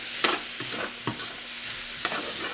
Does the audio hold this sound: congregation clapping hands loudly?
no